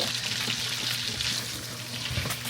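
Food fries in a stick of melted butter with a continuous, fairly loud, close bubbling sizzle throughout.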